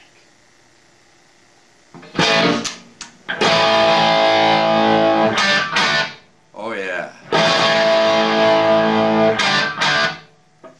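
Distorted electric guitar through a Randall plexi-style amp with no reverb or effects plays loud sustained chords in two long phrases with short gaps, and a voice briefly speaks.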